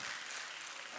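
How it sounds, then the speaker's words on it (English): Applause from a classroom of students clapping for a classmate, a steady, soft patter of many hands lasting about a second with no talk over it. "Round of applause to him, please."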